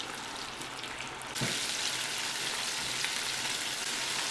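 Chicken pieces frying in batches in hot fat, a dense continuous sizzle that swells louder as another piece is laid in, no voices.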